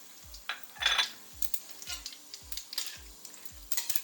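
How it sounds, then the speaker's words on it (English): Fennel seeds with cumin seeds stirred and fried in a pan, a soft sizzle under light scraping and clinks of the spoon, with low regular thumps throughout. "Just stir it for a few seconds, and then straight away put the fennel seeds."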